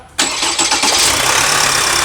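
An Opel Astra 1.6 CDTI diesel engine cranks briefly and catches after a timing chain replacement, then settles into a loud, steady idle with a rough diesel clatter.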